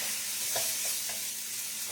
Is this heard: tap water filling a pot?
no